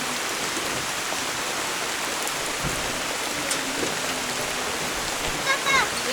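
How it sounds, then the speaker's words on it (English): Heavy rain pours steadily at Wat Chaloem temple in Lampang, Thailand, a dense, even hiss that fills the whole stretch, with a few brief voices and small sounds near the end. "It's raining hard now."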